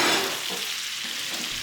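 Huadiao wine hits a hot pot of salted fish and pork belly, setting off a bright, steady sizzle that spits loudly at first and then settles into a continuous fry.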